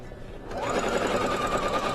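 A sewing machine stitches a fabric table runner along a drawn line, running in a steady, loud, continuous whir close by after a brief start, with no talking.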